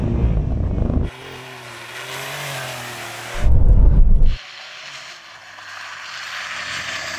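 Several Porsches, a 911 Dakar, Taycan, 911 GTS, Macan and Cayenne, launch in an off-road drag race. Loud engine roar, a brief quieter stretch, then a harsh burst of revving before a steady, fading drone.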